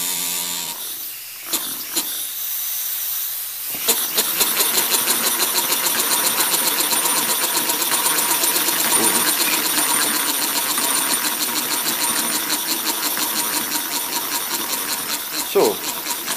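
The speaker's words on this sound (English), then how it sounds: "we'll put a bit of air on this. And hopefully you're going to see the mechanism run" A small air-powered model engine running on low-pressure compressed air, driving a multiple gearing mechanism, gives a steady, dense mechanical whirring and rasping that starts after a brief hiss and carries on close and loud.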